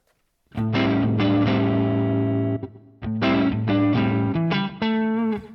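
Electric guitar into a Fractal modeler set to an ODS 100 Dumble-style amp: two strummed chords ring out in turn, then a few picked notes, warm and moderately driven, close and loud with soft ambience.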